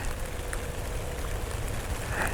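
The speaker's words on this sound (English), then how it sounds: "as the rain begins to fall" Steady rain falling near an airport during a thunderstorm, a dense wash of hiss with no distinct drops standing out, continuous and close throughout.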